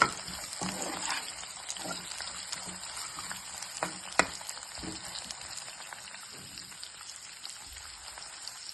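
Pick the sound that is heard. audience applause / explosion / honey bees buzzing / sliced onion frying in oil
sliced onion frying in oil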